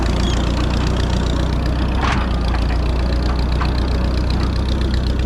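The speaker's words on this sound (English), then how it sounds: "Here's a cute little tractor." A small Minneapolis-Moline ZB tractor engine idles close by with a steady, even low throb and a couple of faint clicks, with no talking.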